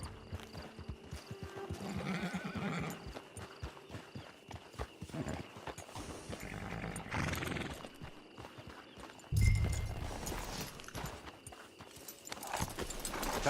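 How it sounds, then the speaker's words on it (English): Hooves clop steadily on the ground from a horse in the Red Dead Online video game, with a burst of louder movement partway through, set against ambient outdoor game sound and no speech. "Get your horse."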